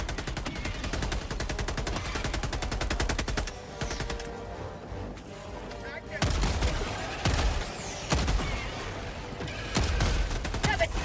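Rapid automatic gunfire from Helldivers 2 as players shoot at bugs, dense fusillade bursts with sharp booms, continuous and loud with brief pauses between volleys.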